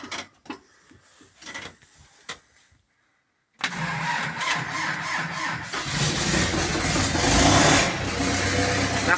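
An Ursus 1014 ZTS Turbo tractor diesel is started at -10°C: a few clicks and short bursts, a brief silence, then the engine cranks and catches into a loud, rough running roar that builds toward the end.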